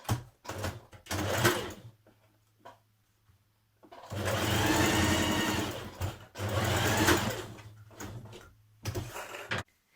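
Quick bursts of a sewing machine stitching a dress side seam come near and loud, broken by quiet gaps with faint handling of fabric, then longer steady runs.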